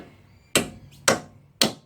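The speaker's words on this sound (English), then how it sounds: "still want to hammer this thing in" Three sharp, loud hammer blows about half a second apart, driving a front strut into place on a 1997 Mitsubishi RVR, each strike ringing briefly before dying away, with no talk.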